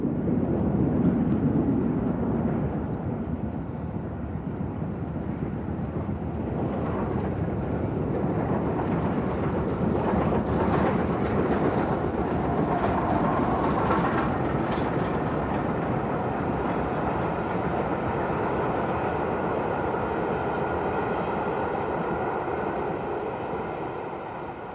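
The LNER steam locomotive Flying Scotsman hauls the Valentine Express. Its heavy, continuous rumble and roar hold loud and steady for the whole stretch, with a faint hiss above, and no voices.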